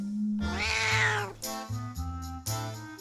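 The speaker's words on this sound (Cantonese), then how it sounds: "黑貓" A black cat gives one long, rising-then-falling meow up close, followed by a few short, steady musical tones with no one speaking.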